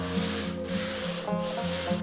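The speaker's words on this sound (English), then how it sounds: "Now I'm just sanding down the edges of the board." Sandpaper is rubbed by hand along the edges of a wooden cutting board, producing a steady, close scratchy rasp in back-and-forth strokes with brief dips between passes, and no talking.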